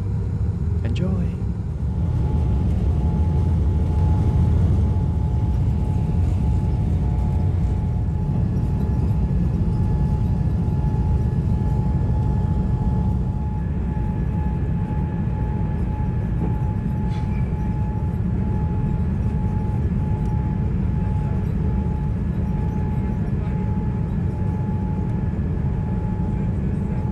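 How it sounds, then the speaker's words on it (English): An airplane taking off from New York, heard from inside the cabin as a steady, loud, low engine roar that holds without a break from start to finish. "This is going to be a nice takeoff because you can see the New York City skyline."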